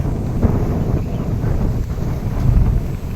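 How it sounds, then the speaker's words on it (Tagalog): Strong wind gusts across an open rice field ahead of an approaching typhoon, a loud continuous roar buffeting the microphone with no pauses. "Mahangin ngayon ganito guys kasi"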